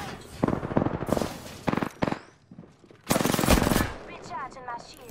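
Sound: gunfire in Apex Legends video game

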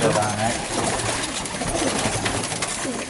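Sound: Konyali pigeon cooing

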